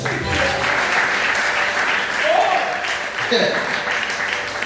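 Church congregation applauding together, a steady dense wash of clapping that holds at a fairly loud level for several seconds with no pauses.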